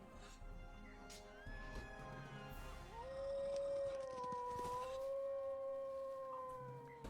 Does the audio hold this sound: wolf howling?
yes